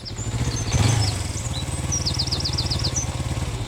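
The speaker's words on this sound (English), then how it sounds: "And here's Peter Fogg on his motorbike." A motorbike engine in the animated children's show Postman Pat hums steadily nearby with a rhythmic throb, while birds chirp and twitter above it.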